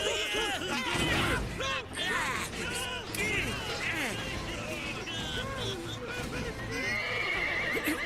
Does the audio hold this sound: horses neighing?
yes